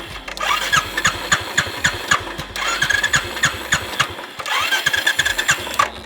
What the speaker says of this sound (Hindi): कितने भी जोर लगा लूं अब बाइक स्टार्ट नहीं होगी